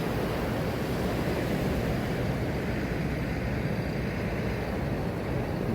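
Ocean waves and wind at sea as a sport fishing boat prepares to troll south, a steady, loud wash of surf and gusting wind noise filling the whole stretch without any speech.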